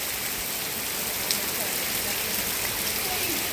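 Heavy rain pours steadily at the entrance of Bulusan Lake, a dense, loud, even hiss of downpour with no break across the whole stretch.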